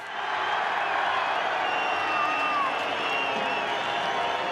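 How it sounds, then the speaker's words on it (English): A crowd at the 2003 Adelaide 500 Supercars race applauds and cheers race winner Mark Skaife, a continuous dense roar of clapping and whoops with an announcer's voice faintly over it. "Save your applause, ladies and gentlemen, for the reigning champ and the victor today, Mark Skaife."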